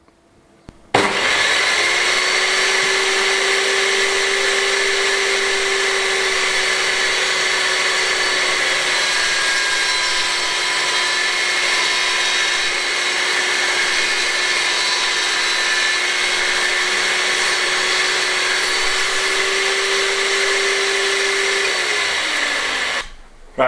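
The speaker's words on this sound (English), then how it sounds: "So I'm going to run it through the table saw to straighten the edges out." A table saw cuts along the edges of a board to straighten them during an old hay loft renovation: a steady, loud motor whine that holds for about twenty seconds after starting up, then winds down at the end.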